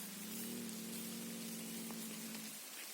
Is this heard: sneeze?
no